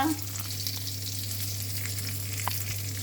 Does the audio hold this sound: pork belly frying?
yes